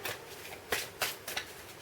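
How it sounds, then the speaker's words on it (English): Queen of the Moon oracle cards being shuffled by hand, a few soft riffling bursts spaced apart, quiet and close with no talking. "see I can get them to shuffle"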